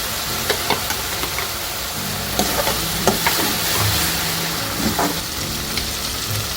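Green chilli, ginger-garlic and coriander paste frying in a hot pan with curry leaves, a steady loud sizzle with scattered scraping stirs and spatters throughout.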